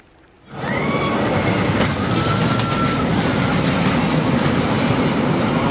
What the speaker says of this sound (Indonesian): Detik-detik minibus tertabrak kereta api terekam kamera ponsel warga di Desa Wonoasri, Kecamatan Wonoasri, Kabupaten Madiun